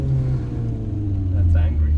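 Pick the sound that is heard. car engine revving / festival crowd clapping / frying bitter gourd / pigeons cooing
car engine revving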